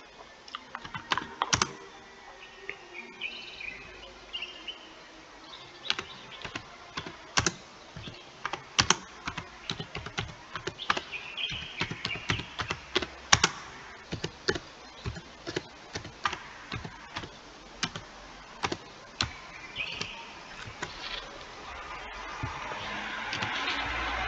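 Someone types on a computer keyboard at a moderate, uneven pace for over twenty seconds, with close, distinct key clicks in short runs and pauses, and no speech.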